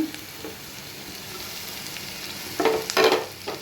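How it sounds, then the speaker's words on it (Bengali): Garlic and ginger paste with spices frying in a pan, a low steady sizzle with a few louder bursts of stirring near the end, no voices. "সবগুলো দিয়ে দিলাম এবার এই মশলাগুলোকে অনেকক্ষণ ধরে কষাতে হবে"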